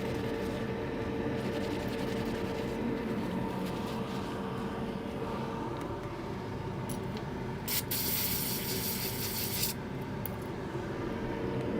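Hot air rework station blowing through its nozzle during a MacBook repair, a steady soft hiss throughout with a brief brighter burst of airflow near the end.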